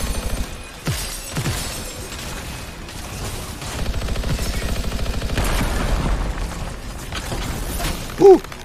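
Rapid video-game gunfire aimed at Valkyries, with rattling bursts and sharp repeated shots in uneven clusters, heaviest in the middle stretch and ending on a single louder bang.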